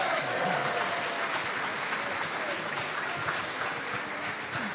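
Crowd applause for the Winneconne Wolves high school football team, steady and full-bodied for about five seconds, moderately close and sustained without a break.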